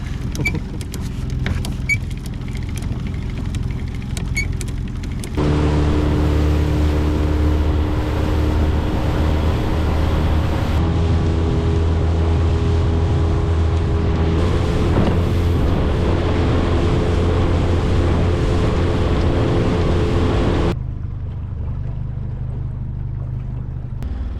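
A motorboat runs into a small bay near a Gulf Islands national park reserve with prawn traps aboard. Its engine drones loud and steady, with strong low tonal hum and wind buffeting the microphone.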